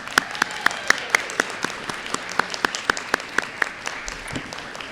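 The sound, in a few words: audience round of applause for students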